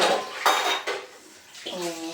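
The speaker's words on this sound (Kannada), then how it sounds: "ಒಂದು ಸ್ವಲ್ಪ ಪಾತ್ರೆ ಇದೆ ಮುಗಿಸ್ಕೊಂಡ್ಬಿಟ್ಟು" Metal pots, plates and cutlery clatter and clank close up at a home kitchen sink, a few sharp knocks followed by scraping and running-water rinse, with no talking.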